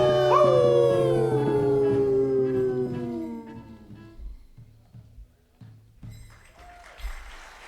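Wolves howl together in a long, loud, sliding chorus of overlapping voices that fades out gradually, followed by a few short, faint barks and yips in the quiet that follows.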